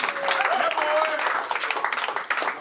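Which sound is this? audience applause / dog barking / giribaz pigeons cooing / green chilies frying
audience applause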